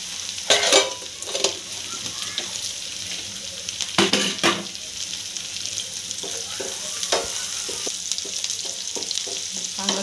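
Chicken liver sizzles on a tawa under a constant frying hiss, interrupted by several loud bursts of spatula scraping and stirring against the metal, with no talking.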